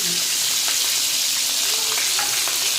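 Panch phoron seeds and chopped garlic sizzling in hot oil with dried red chilli and bay leaf, a loud continuous close-up crackle and hiss.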